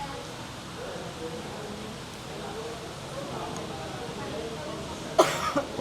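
A person coughs briefly near the end, a short close burst after a stretch of quiet background murmur and talk.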